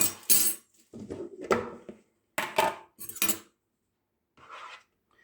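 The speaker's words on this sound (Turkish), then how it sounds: "Son olarak yoğurdumuzu ekleyip karıştıracağız." A spoon stirs yogurt into cacık salad in a bowl, with several bursts of clinking and scraping separated by short pauses, close and fairly clear with no talk.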